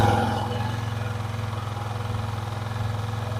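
Yamaha Aerox scooter engine idling just after being started, a steady close, loud pulsing putter that holds an even rhythm throughout.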